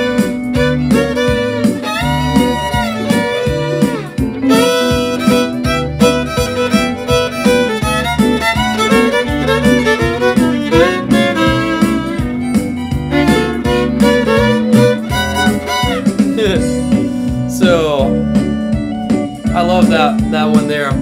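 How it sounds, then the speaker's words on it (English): Country fiddle plays swingy double stops, two strings sounding together in a bouncy, syncopated rhythm, loud and close, continuing steadily for about twenty seconds without any talking. "It's another set of double stops that I call the swingy double stops."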